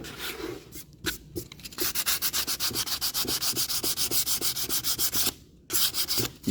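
Sandpaper rubs lightly over a kitchen cabinet door in quick, regular back-and-forth strokes, close and steady, with a couple of brief pauses between runs.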